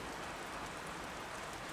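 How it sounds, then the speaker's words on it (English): Steady rain pours down at night through the open roof of an ancient Roman atrium into a shallow sunken marble pool, a continuous soft hiss with no voices. "The rain falls straight down through this opening"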